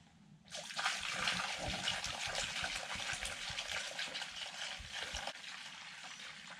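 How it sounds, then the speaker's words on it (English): Bus coolant draining from the engine into an old cutting oil jug, a steady close trickle and gush of liquid that starts abruptly and keeps pouring. "I drained my coolant into this old cutting oil jug."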